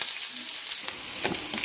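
Sliced onions sizzle steadily in hot oil in a pan for traditional home cooking, a close, continuous hiss with a few brief crackles and stirring sounds.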